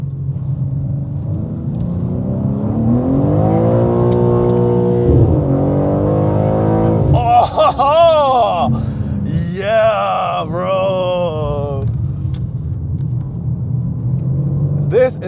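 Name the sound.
BMW M car engine revving under throttle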